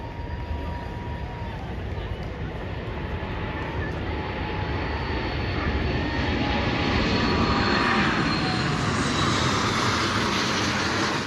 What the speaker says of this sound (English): Near Alaska, US fighter jets are met by a Russian Su-35 in a close and unexpected aerial intercept.